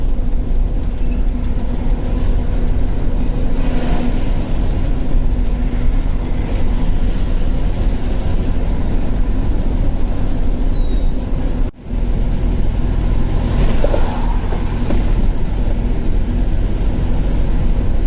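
A train crosses a railway bridge in Kerala with a loud, continuous rolling rumble and rhythmic clatter of wheels. The sound holds steady and close throughout, with only a brief dip near the end.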